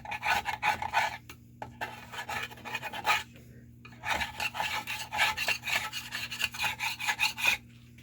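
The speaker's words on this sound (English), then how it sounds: "so you use a scraper of some sort" Steady rasping scrapes of a carpet knife or putty knife cleaning residue off a surface while installing a Cannon downrigger power cable kit, in repeated bursts with short pauses, close and fairly loud over a low background hum, no talking.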